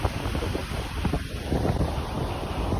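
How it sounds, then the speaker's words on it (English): Strong wind buffets the microphone in a steady, rumbling roar, with the wash of surf faintly underneath. "Back at the beach, it's super windy."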